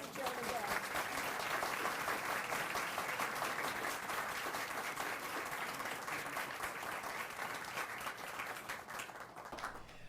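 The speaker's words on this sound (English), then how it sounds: "how about joining me in a round of applause for Joan and Deb?" Audience applause at a gala, a sustained, even round of clapping from a sizeable crowd lasting about ten seconds and thinning slightly at the end.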